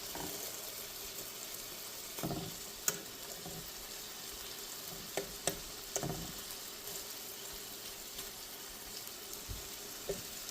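Bacon frying in a pan, a soft, steady background hiss with a few faint pops and small clicks scattered through it, fairly quiet overall.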